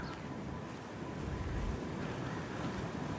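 Strong wind roars steadily outdoors, a dense, rushing broadband noise that swells slightly midway, with no voices heard.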